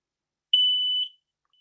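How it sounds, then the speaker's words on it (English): A smoke alarm sounds a single shrill, steady beep lasting about half a second, loud and close against silence, with a faint chirp trailing after. "Smoke alarm, one more time."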